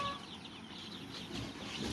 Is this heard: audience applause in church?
no